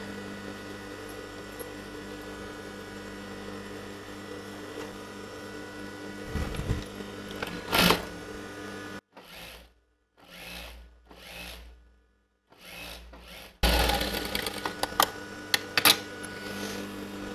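A sewing machine stitches blouse fabric in a tailoring class, its steady whirring hum running close and continuous, broken midway by a quieter pause before the motor picks up again.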